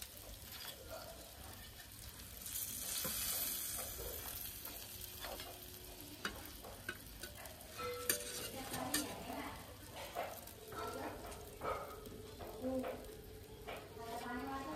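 Battered food frying in a pan of oil gives a faint steady sizzle with occasional scraping and clinks, a little running water and some quiet speech in the background.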